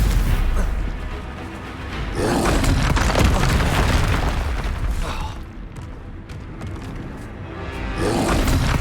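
A Stupefy stun spell cast in the video game Hogwarts Legacy, heard as booming magical blasts that surge in two loud bursts over continuous game combat noise.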